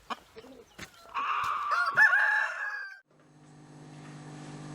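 A backyard flock of nearly 30 chickens in a valley: a few soft clucks, then a rooster's crow rising fairly close, followed by a low steady hum as the birds quieten.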